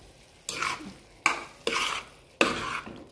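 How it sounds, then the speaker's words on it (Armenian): Pasta being stirred in a cooking pot: three distinct scraping strokes spaced roughly a second apart, close and fairly loud, with no talking. "Լավ խառնում ենք"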